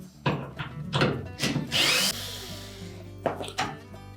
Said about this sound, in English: Then we'll remove the retaining screws that secure that hinge to the cabinet.